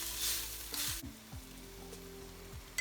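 Vegetable Manchurian sauce bubbles and sizzles in a pan as it is stirred, a soft close hiss with a brief louder burst early on and a faint tap near the end, heard over a low background hum.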